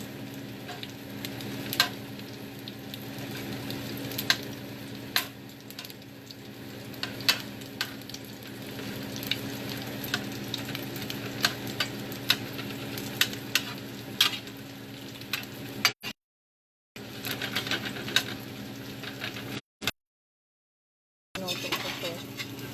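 Leftover fried rice reheating in a pan for breakfast, with a steady close sizzle and frying hiss, intermittent stirring scrapes and clicks, and short breaks of silence near the end.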